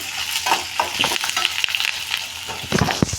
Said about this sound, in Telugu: ఎర్రగడ్డలు బిరుక్కుని ఎర్రగేగుతాయి